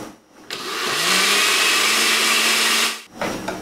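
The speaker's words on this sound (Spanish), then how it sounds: "voy a batir en la licuadora para que quede bien diluida" An electric blender whirs loudly, mixing milk and sugar in one steady high roar of about two and a half seconds, with short bursts of handling noise before and after.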